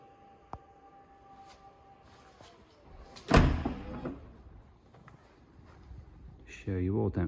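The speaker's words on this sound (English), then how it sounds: "Quick press the button, shuts the boot there." A Volkswagen Caravelle Executive T6.1 tailgate powers shut after a button press, finishing with a solid thud at close range, followed by someone speaking.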